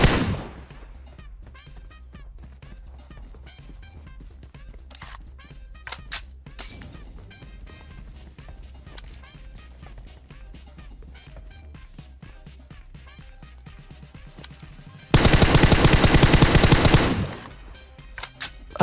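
Gunfire in PUBG Mobile as a player shoots at an enemy up in a tower, scattered sharp shots through most of the stretch, then a loud sustained burst of rapid automatic fire lasting about two seconds near the end.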